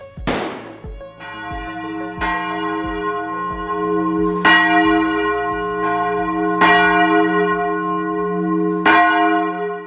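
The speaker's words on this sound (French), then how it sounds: "C'est encore des cloches?" Church bells ring out loud and resonant, several strikes spaced a couple of seconds apart, each tone lingering and overlapping the next.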